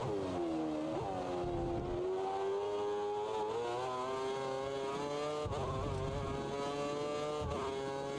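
A V8 Formula 1 car in a racing video game at the Chinese Grand Prix, its high, buzzing engine note rising through the revs with a few sharp dips at gear shifts, loud and continuous with no talk.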